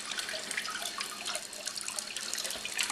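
A water wand rinses a hydroponic bubble-box tub toward the center, a continuous close hiss of spraying water with no pauses.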